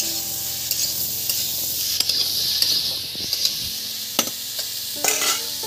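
Potatoes fry in a little oil, giving a soft, continuous sizzle, while a utensil scrapes and clinks against the pan now and then, close and moderately loud.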